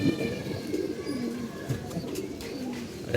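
Domestic pigeons coo steadily in low, rolling phrases that recur throughout, fairly close and continuous, with no talk over them.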